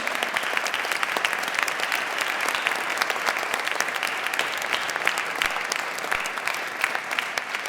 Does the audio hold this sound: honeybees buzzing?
no